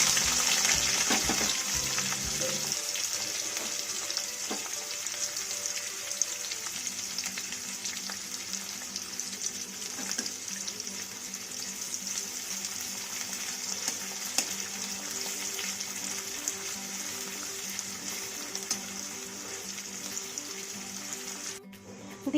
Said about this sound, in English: Now I'll add 2 onions finely chopped.